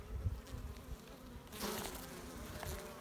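Honey bees buzz in an opened queen-rearing breeder hive, a dense steady insect hum close by that swells louder halfway through, with no voices.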